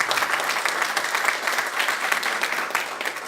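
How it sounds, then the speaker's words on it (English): An audience at a Toastmasters Area 11 table topics contest applauds, a dense, steady round of clapping that holds at an even level for the whole stretch. "Can we have a big round of applause?"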